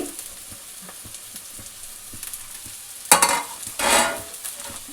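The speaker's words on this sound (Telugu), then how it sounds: "క్యారెట్ వేస్తున్నాను, అలాగే క్యాబేజ్. హై ఫ్లేమ్లోనే ఉంచి చేసుకోండి." Onions, carrot and cabbage sizzle on a high flame for leftover-rice vegetable fried rice, a low steady crackle with light ticks that swells into two louder hissing bursts near the end, close and without talk.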